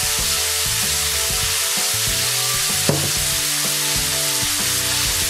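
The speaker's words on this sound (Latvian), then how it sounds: "Un karstā eļļā pievienojam papriku." Bell pepper frying in hot oil for ratatouille, a steady close sizzle with the occasional clink of stirring.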